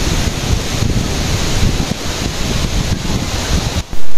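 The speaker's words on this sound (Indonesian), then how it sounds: "Suara gemercik air dari sungai yang membelah perbukitan di Kampung Lam Sujen ini makin membuat hati terasa damai." River water rushing through hilly countryside in a village in Aceh, heard as a steady, dense wash of flowing water with a windy, surf-like roar that holds an even level throughout and ends in a sudden loud burst.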